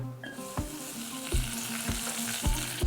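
Two cubes of butter melt and sizzle in a hot pan, a steady close crackle and hiss with soft spattering pops and occasional scraping knocks of a utensil stirring.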